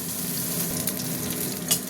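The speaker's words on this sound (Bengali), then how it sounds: "আমি মাছটা ভাজছি।" Pieces of rohu fish frying in hot oil, with a dense, close crackling sizzle and a couple of light stirring scrapes.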